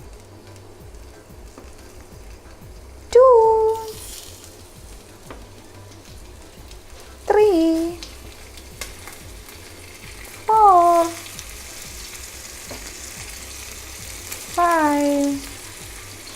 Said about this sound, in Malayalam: എന്നിട്ട് നമുക്ക് അതിലിട്ട് നമ്മുടെ മീൻ തിരിച്ച് മറിച്ചിട്ട് വറുത്തെടുക്കണം